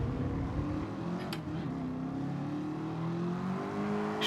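Racing car engines in Gran Turismo Sport during a Midship Challenge race, one engine climbing steadily in pitch as it accelerates hard, alongside the whir of nearby cars.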